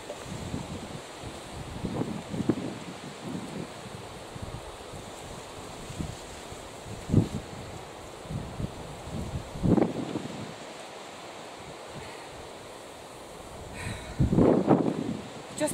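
Gusty wind from Storm Ellen blows through a garden, with steady broadband rushing, buffeting bursts against the microphone and rustling foliage.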